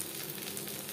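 Peanuts frying with whole spices in hot oil for a tempering, giving a steady, close, bright sizzle with no voices.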